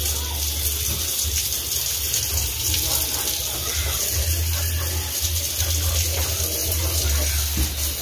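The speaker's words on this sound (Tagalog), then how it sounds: "Hina kasi ng aming tubig ngayon." A weak stream of water runs steadily from a tap at a piglet-raising farm, a continuous hiss and splash heard close up throughout, with low background rumble.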